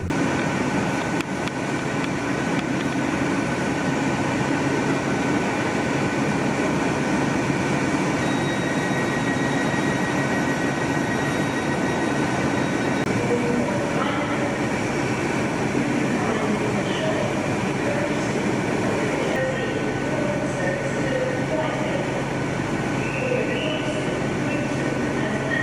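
An East Coast bimodal express train stands at or passes through Carlisle station on a diversion, its steady rumbling and droning filling the platform at an even level, with faint station sounds in the background.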